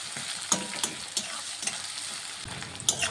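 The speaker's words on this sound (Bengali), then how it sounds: "পেঁয়াজটিকে প্রথমে একটু ভেজে নেব" Chopped onion fries in hot oil with cinnamon, cloves and cardamom, a close, bright sizzle with a handful of sharp scraping stirs scattered across a few seconds.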